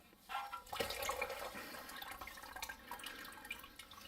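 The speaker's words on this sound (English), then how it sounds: "Get the last of the fluid out." Transmission fluid from a Toyota Corolla A240L automatic transmission runs out of the loosened pan into a bucket underneath, a quiet, close trickling and splashing of liquid with no one speaking.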